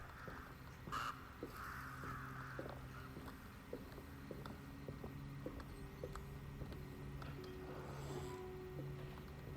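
Crows caw in the horror video game Alone in the Dark, a few faint distant calls over a low, murky ambient drone.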